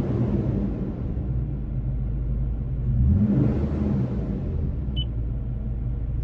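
A Toyota Tacoma pickup engine idling with a low rumble, then a single rev that rises and falls around the middle before settling back to idle, heard alone.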